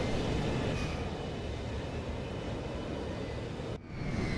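Merryweather cargo jet in GTA 5, a loud continuous roar of jet engines with broad rushing noise, steady throughout apart from a brief dip near the end; no talking.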